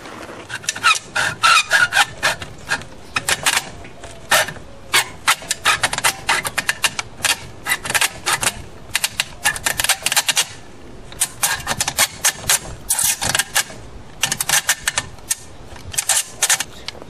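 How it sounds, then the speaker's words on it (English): A saw fitted with a 32-tooth blade struggles through thin aluminum screen frame stock, giving a long run of harsh, rasping cutting bursts in an uneven rhythm. The sawing is close and loud throughout, and no one speaks over it. "Even a 32 tooth, it's kind of hard to get through this because this aluminum is so thin."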